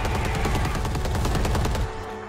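Rapid automatic gunfire in Predator: Hunting Grounds, a dense, loud burst of repeated shots lasting about two seconds before cutting off into a lower rumble.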